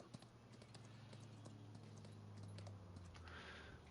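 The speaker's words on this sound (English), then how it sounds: "We're just taking our horse for a daily trot here quick." Rhythmic clip-clop of horse hooves trotting at an even pace in Farming Simulator 25, soft and steady over a low hum, with a few faint clicks.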